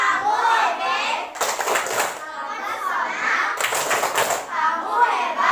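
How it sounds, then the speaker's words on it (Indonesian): Children in a classroom giving a rhythmic appreciation clap routine, two bursts of clapping broken up by group chanting voices, close and lively. "maka kita berikan tepuk apresiasi"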